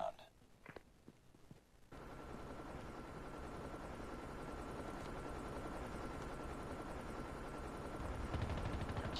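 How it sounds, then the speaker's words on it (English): Stealth chopper in Call of Duty Mobile during a multiplayer match: after a short stretch of scattered clicks and footsteps, a dense, steady rotor roar kicks in suddenly and holds loudly, swelling slightly near the end. "Stealth chopper inbound."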